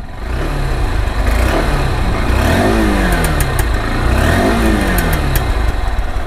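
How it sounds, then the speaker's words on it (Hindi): A Honda SP 160 motorcycle exhaust runs steadily close by, with its engine note rising and falling through a few revs over a constant rumble; no talking. "बाइक को स्टार्ट करके भाई इसका साउंड सुनाना चाहूँगा।"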